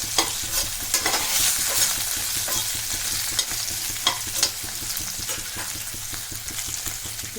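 Gunda (Indian cherry) sambharo roasting in a pan, a continuous close sizzle broken by repeated spatula stirring and scraping clicks for several seconds, no voices.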